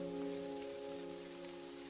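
Heavy rain falls in a soft, steady hiss, faint and continuous beneath a low, sustained musical drone.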